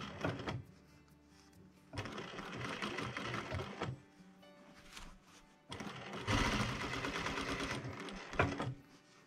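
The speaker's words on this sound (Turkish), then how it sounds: "Burada dikili olan yerden başlıyorum ve yavaş yavaş makinamı yürütüyorum." A sewing machine stitches along a pair of trousers being widened, running in several bursts of steady mechanical whirring with short pauses and clicks between them, close and fairly loud.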